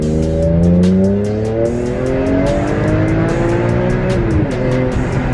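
A BMW E46 M3 engine, freshly fitted with new Delphi coil packs, revs hard to high RPM, its loud harmonic whine climbing and holding steady near and alone, with sharp ticking bursts riding over the continuous roar.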